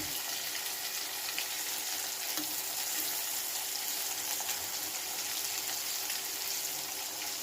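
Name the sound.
zucchini frying and being stirred in a pan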